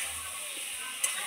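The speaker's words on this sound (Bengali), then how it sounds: "মশলাটা আমার ভালো করে কষানো হয়ে গেছে, দেখুন কষানো হয়ে গেছে।" A spice paste fries in a pan for a small-fish curry, giving a steady, close sizzling hiss throughout with one brief sharper crackle near the end.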